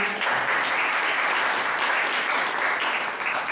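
A crowd claps steadily and loudly throughout, a dense, sustained burst of applause from an audience.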